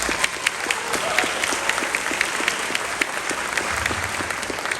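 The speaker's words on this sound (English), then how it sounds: "we'll give them a nice round of applause before we move on to the next one" A concert audience at a spring school band performance gives a senior flute player a steady round of applause, with a brisk, even patter of many hands sustained throughout.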